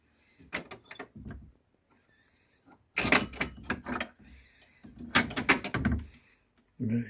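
An old wooden door with its original lock in a village house is pulled and rattled open in a few knocking, clattering bursts, close by, with people talking around it.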